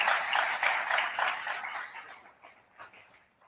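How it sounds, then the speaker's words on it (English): Warm audience applause for ambassadors on stage at the India Today Conclave 2026, a dense crackling clatter of many hands that is loud at first and gradually thins and fades over a few seconds. "Let's give them a very, very warm round of applause"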